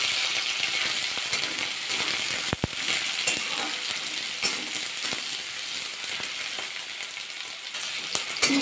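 Chopped onion hits hot oil seasoned with black cumin, giving a steady loud sizzle with a few sharp clinks and scrapes of stirring.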